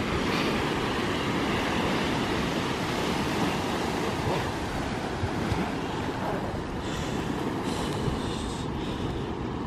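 Ocean waves break on the beach at Waikoloa Village in a steady, loud roar of surf that carries on without letting up, with no voices.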